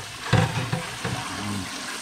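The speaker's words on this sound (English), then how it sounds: "we're just gonna put this down and run cold water on it" Cold tap water runs steadily into a cooking pot in a kitchen sink to rinse rice, a continuous close splashing hiss with a few louder surges and no voices.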